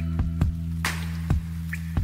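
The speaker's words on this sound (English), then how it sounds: "It's the rain." Rain drips in a few separate, distinct drops over about two seconds, each a sharp plink or splat close by, set against a low steady hum.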